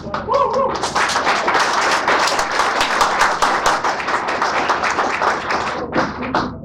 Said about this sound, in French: Des applaudissements bien nourris sans qu'on ait eu à demander